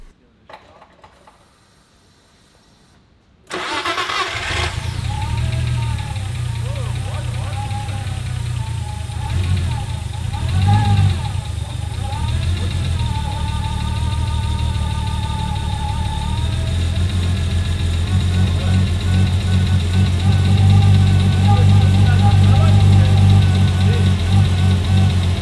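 A Nissan R34 Skyline engine cranks and catches after a brief quiet moment, then settles into a steady, loud rough idle that carries on to the end with a slight rise in level.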